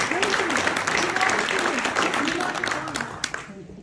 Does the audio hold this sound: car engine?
no